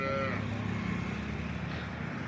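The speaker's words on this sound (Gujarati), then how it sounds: "આજની તારીખમાં આપણી પાસે ગાયો હાજરમાં બનાસકાંઠાની લોકલ ગાયો હાજરમાં છે" A local Banaskantha cow gives one long, steady, low moo, fairly near, with faint background noise and no talking.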